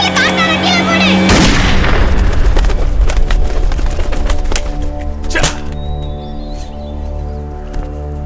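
A sharp, loud gunshot-like bang cracks out after some talk, followed by a long ringing decay and a second fainter crack later.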